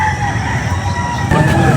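A rooster crows at an outdoor pet market in Angeles, a loud, close, drawn-out call over a busy background hum of traffic and voices.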